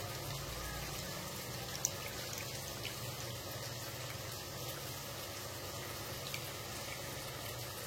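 Liquid for fish curry is filtered and poured in a kitchen, giving a soft, steady trickle and splash at low volume with a few faint clinks.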